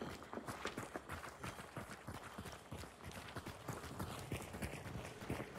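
Rapid hoofbeats of a running horse in the video game Hunt: Showdown, a continuous galloping patter at moderate volume with a rough, noisy background.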